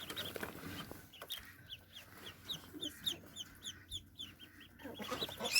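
Young guinea fowl keets give a flurry of high, thin chirps in quick repeated bursts, close by, with some rustling and soft background noise.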